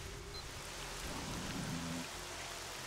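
Rain pours steadily in S.T.A.L.K.E.R. Shadow of Chernobyl, a faint, even hiss that runs throughout, with a low tonal hum briefly rising underneath.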